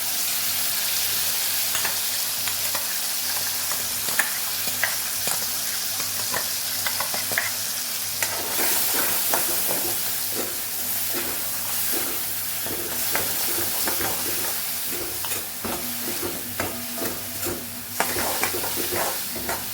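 Potatoes, tomatoes and spice paste sauté in a hot pan, a steady close sizzle with frequent scraping stirs of a utensil running throughout, no talking.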